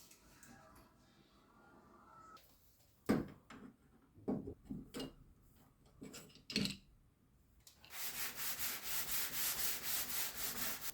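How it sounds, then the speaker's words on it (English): Sandpaper rubs back and forth over a wooden door in a rhythmic series of close, even scrubbing strokes, preceded by scattered knocks and handling taps. "After sanding it with 100 grit and then 220 grit sanding paper"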